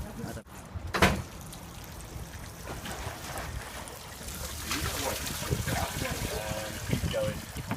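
Water pouring and splashing while a cassette toilet is rinsed out, an uneven trickling and gurgling flow with a sharp knock early on, heard up close under people talking.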